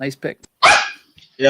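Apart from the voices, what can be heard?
dogs barking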